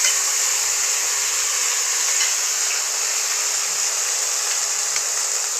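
Tomatoes fry in hot oil in a kadai with a steady, loud, hissing sizzle. The sound stays even for the whole stretch, with no talk over it.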